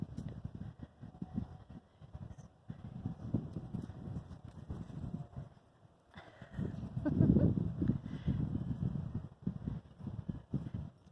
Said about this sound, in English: it's a windy day too